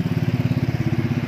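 A Honda Beat fi 125 motorcycle engine with internal corrosion and a misfire starts up and runs in a steady, rapid, throbbing putter, close and loud with no other sound over it.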